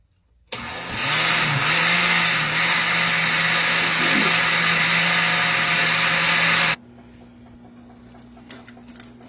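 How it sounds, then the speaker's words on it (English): Blender whirring loudly and steadily as it purees coconut for homemade coconut milk, running from near the start for about six seconds, then cutting off to leave a low hum and quiet room noise. "This was in the blender for about 10 minutes."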